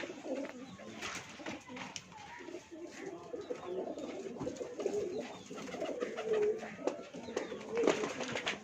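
Pigeons coo continuously in soft, rolling, overlapping calls, with scattered rustling and faint flutter noises close by, and no clear voices over the moderately quiet birdsong.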